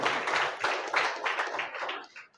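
Applause for teachers at a Teachers' Day gathering, a burst of clapping from a small group that stays fairly steady, then thins out and fades toward the end.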